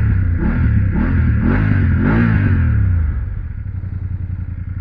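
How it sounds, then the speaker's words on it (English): A 2023 BMW F850GS Trophy parallel-twin motorcycle gives a deep exhaust rumble with a few pulsing rev swells, then it settles to a lower, steadier throb near the end. "it has that deep rumble, you know, that deep rumble that comes from the pipe, and this is a parallel twin"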